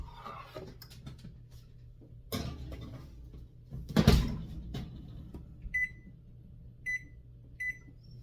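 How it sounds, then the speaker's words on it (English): An oven, likely a microwave, is set for a batch of Scooby snacks: a clunk of the door closing and handling noises, then three short, evenly spaced electronic beeps, close and clear with no talking. "we have to put this in the oven for about 8 minutes"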